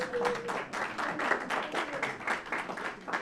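An audience breaks into steady, sustained applause at a panel discussion, with dense overlapping claps filling the room for several seconds and no talking over it.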